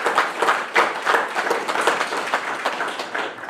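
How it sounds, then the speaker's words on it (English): A crowd at a Navy graduation ceremony applauds new petty officers, with clapping from many hands in rhythmic waves of uneven loudness that hold steady throughout. "Family, please join me in a round of applause for the Navy's newest third-class petty officers."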